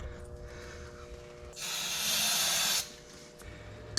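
Starter fluid sprayed into a worn Cummins generator gives a steady breathy hiss of a little over a second, fairly close, with quiet background before and after.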